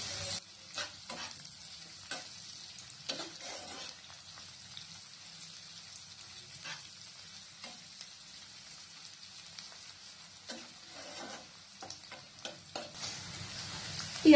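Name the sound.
onions frying and being stirred in pan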